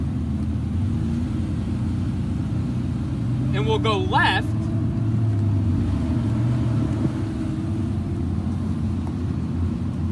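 A car rolls slowly through the grounds of Staunton River High School and Middle School, its engine a steady low rumble throughout while someone briefly speaks over it.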